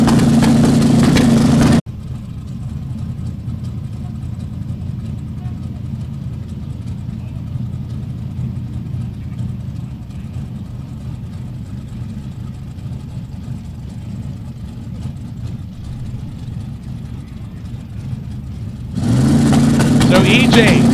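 A gasser drag car idles at a dragway starting line with a loud, low rumbling engine, steady throughout while the driver works it into gear, with louder crowd or announcer bursts at the start and end.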